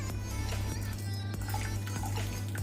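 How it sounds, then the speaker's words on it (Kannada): A glass of cold water poured over strained sago in a kitchen, a close continuous splashing trickle with small drips and clinks, over a steady low hum. "ಈಗ ಅದರ ಮೇಲೆ 1 ಲೋಟ ಥಂಡ ನೀರು ಹಾಕೋಣ"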